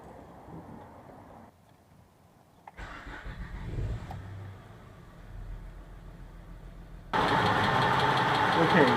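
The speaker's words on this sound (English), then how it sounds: "let's go start the engine and then see if there's any leak" Honda Odyssey engine cranking and catching, then settling into a steady idle that grows louder near the end, heard up close with a voice speaking at times.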